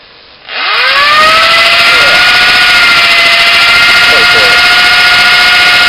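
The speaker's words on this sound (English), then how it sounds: "It's worth hitting it with a drill" A power drill whines up to speed and runs steadily, biting into a hand-made leaf spring tanto knife blade at a centre-punched dent, loud and close with no talk.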